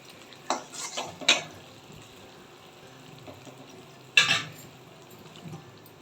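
A spoon stirs gram flour into a ghee and sugar syrup in a pan for Mysore pak, with a few scraping clanks and knocks against the metal, spaced out and separated by quiet stretches.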